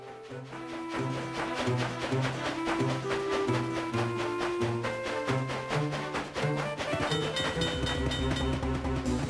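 Train running in the Nintendo DS game The Legend of Zelda: Spirit Tracks, a steady rhythmic chugging clatter with repeating low tones, continuous and fairly loud with a brighter tone near the end.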